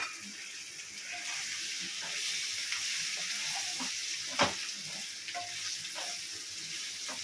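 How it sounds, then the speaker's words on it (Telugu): Pre-fried chicken pieces, half a kilogram, sizzling and hissing in spicy biryani masala in a home kitchen: a steady, loud frying crackle with occasional stirring clatter and one sharp clink, no voice. "ఇప్పుడు దీంట్లో మనం ముందుగా ఫ్రై చేసుకున్న చికెన్ యాడ్ చేస్తున్నాము"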